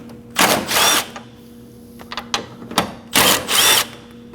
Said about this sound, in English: Using a 10mm socket, go ahead and take those out.